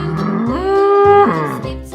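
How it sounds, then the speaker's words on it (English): A bull gives a single loud, close moo that rises, holds a steady tone and then drops away, alone and clear over about two seconds. "Bull."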